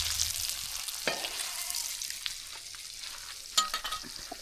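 Catla fish frying in oil on a tawa over a wood-fired chulha gives a low, steady sizzle with occasional scrapes and taps of a spoon, while someone speaks over it.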